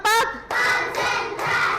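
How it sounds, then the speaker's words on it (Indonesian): A class claps a counted rhythmic pattern, with a few short, sharp bursts of hand claps separated by brief pauses and a voice calling along with them. "tepuk 5, tepuk 3, tepuk 3, tepuk 1, tepuk 5"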